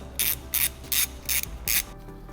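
A ratchet loosens the front sprocket bolt on an Aprilia RSV4 motorcycle, producing five evenly spaced, crisp bursts of clicking pawl ratchets close up, with brief quiet gaps between strokes.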